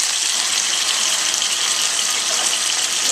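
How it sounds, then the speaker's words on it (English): Water runs steadily from a kitchen tap during handwashing, a loud, close, continuous splashing hiss with no breaks and no talk. "now let me wash my hands"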